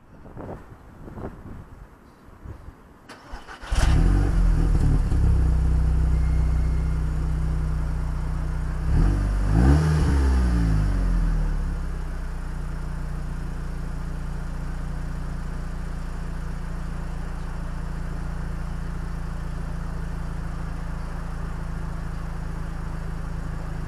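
An Audi TTS with a modified exhaust is started up after a few quiet seconds, a loud catch followed by a rising blip of revs around ten seconds, then settling into a steady, deep idle rumble close by.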